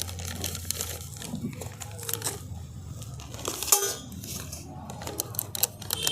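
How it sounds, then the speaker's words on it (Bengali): A plastic packet crinkles and crunches steadily close by as thick semolina-and-potato batter is spooned in, with soft scrapes and taps of utensils mixed into the rustling. "প্যাকেটটার মধ্যে আমি ব্যাটারটাকে দিয়ে দিচ্ছি।"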